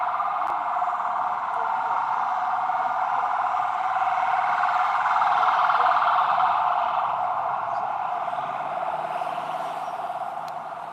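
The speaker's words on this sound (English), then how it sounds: "It's always an ambulance coming up and through here" A siren wails continuously, swelling slightly louder in the middle and then fading as it moves off, with no voices over it.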